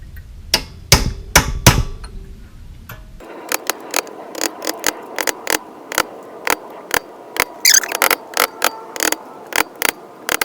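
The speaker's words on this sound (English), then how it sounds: "I'm going to hit it with a sharp punch and try and get the aluminum to kind of fold over the valve seat" A hammer striking a sharp punch to peen the aluminum over a valve seat in an MTD mower engine head, a long series of sharp metallic taps in a steady rhythm, close and loud, with scraping handling noise at the start.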